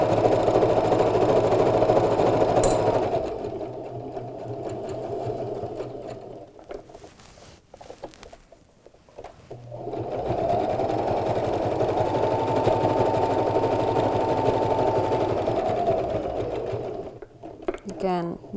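A sewing machine stitches along the edge of a first aid pouch in two loud, steady runs separated by a pause for pivoting at a corner, with a person talking over the machine.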